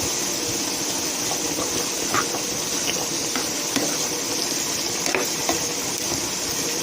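Onions frying in hot oil in a pot, a steady dense sizzle and hiss that stays loud and even throughout, with faint scattered pops and clicks and no talking.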